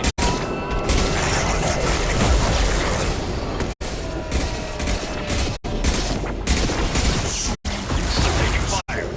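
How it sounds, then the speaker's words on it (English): Sustained heavy weapon fire and booming impacts from a Mass Effect 2 firefight fill the scene almost without break, clattering and rumbling, cut by a few brief moments of near silence. "Taking fire."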